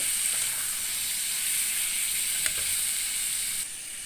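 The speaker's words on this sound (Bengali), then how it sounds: "দিয়ে দিচ্ছি ডাটাটা দিয়েও নেড়ে চেড়ে নিব" Shrimp and tender vegetable stalks frying in a pan, a loud, even sizzle and hiss running throughout, with one brief utensil tap midway and the sound easing slightly near the end.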